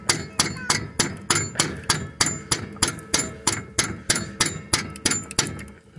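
Old bolt hammered repeatedly to drive a new bushing into a trailer leaf spring, sharp metallic strikes in an even rhythm of roughly three blows per second, loud and close with ringing decay, no voices.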